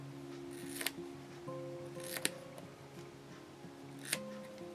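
Scissors snipping duct tape while a fly swatter is made, three short crisp cuts spaced apart over a low background hum, fairly quiet and close.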